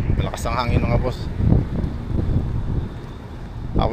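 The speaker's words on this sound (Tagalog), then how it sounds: "Malakas ang hangin mga boss." Strong outdoor wind buffeting the microphone, a loud, low rumbling roar that surges and dips throughout, with a voice talking over it.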